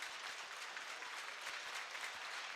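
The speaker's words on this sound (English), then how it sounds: "A round of applause from the New Hamburg faithful" At the end of a junior hockey semi-final, New Hamburg fans and both teams applaud together, a steady, evenly spread crowd clapping that sounds fairly distant and faint in the arena, with no voices standing out.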